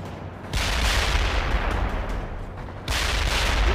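Heavy battlefield gunfire in World in Conflict: Soviet Assault around a rural American town near Eatonville, a dense continuous fusillade of rapid shots and booming impacts, loud throughout and swelling again near the end.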